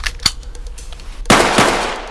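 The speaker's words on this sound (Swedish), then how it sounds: "Lussan, två skott avfyrade här och gärningsmannen rör sig ner i ett garage" Two sharp gunshots, a small crack followed about a second later by a louder blast with a long, echoing tail, no voices.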